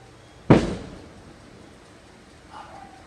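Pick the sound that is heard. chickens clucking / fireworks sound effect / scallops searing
fireworks sound effect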